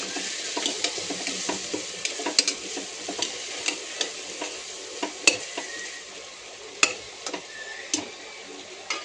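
Pulao masala and turmeric powder fry in a pan while being stirred, a soft continuous sizzle broken by frequent sharp ticks and clinks of the spoon against the pan, close by.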